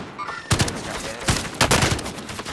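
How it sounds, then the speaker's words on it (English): Gunfire in Call of Duty: Warzone, with sharp single shots and short bursts cracking out at irregular intervals, fairly close and loud after a quieter opening moment. "I hear a lot of shooting."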